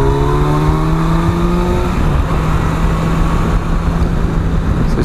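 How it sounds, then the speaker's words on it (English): A 2017 Kawasaki Versys 1000 motorcycle accelerates hard while overtaking on an open road, its engine revving loud and close with rising then steady tones over constant wind roar. "So there's certainly no issues when it comes to overtaking on this bike."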